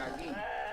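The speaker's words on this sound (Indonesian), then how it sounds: "Ini domba khas Garut." A Garut sheep with big horns bleats close by on a farm in Indonesia, one wavering, drawn-out cry.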